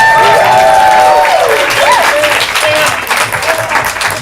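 The audience at an improv comedy show claps loudly and continuously, while a voice sings or calls out over the opening stretch before the clapping carries on alone.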